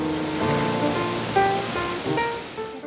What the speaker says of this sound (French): Le bruit est le son de l'eau au fond de la rivière.